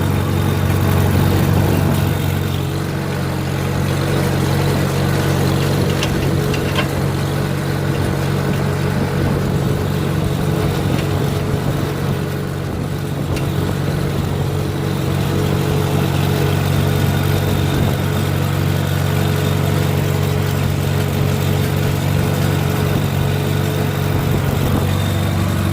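A Farmall H tractor engine runs steadily while spraying fields, a loud, continuous low mechanical drone with little change over the whole stretch.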